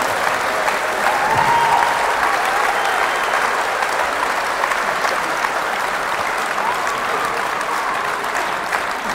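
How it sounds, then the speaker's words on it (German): A large audience at a sports evening in Bergneustadt applauds athlete Denise Schindler, with steady, dense clapping that holds full and loud for about nine seconds. "Ihr Applaus für Denise Schindler."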